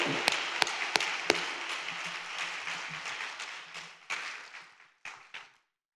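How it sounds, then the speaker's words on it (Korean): A church congregation at an evening revival gathering at a prayer retreat breaks into applause to welcome a pastor to the stage, a dense wash of clapping with a few sharp louder claps early, thinning and stopping in scattered bursts. "우리 목사님 환영하면서 박수로 모시겠습니다"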